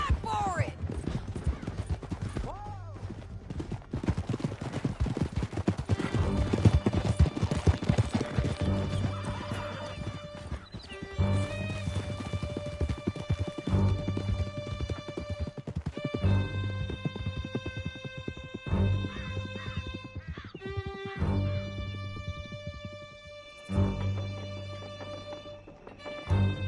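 Horses' hooves pound in a steady clip-clop gallop during a chase through a canyon in Red Dead Redemption 2, close and sustained under swelling orchestral music, with a neigh and a crash along the way.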